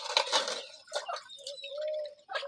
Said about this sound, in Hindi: मैं बर्तन धो रही हूँ।